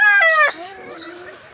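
A hen that has just laid an egg gives a loud, drawn-out squawk and then settles into a softer, wavering cackle, heard up close with no one talking.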